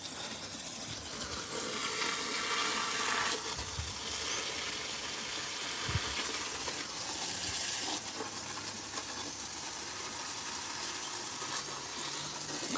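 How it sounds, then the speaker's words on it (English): Tomato plants are watered on a warm day with a steady, close hiss and gush of water running continuously from a hose or tap, strong and unbroken with slight surges, no voices over it. "Just water these tomatoes over here."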